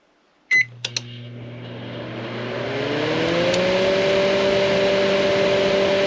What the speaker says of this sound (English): So I'm going to set it to convection and run it, and you'll see the motor move.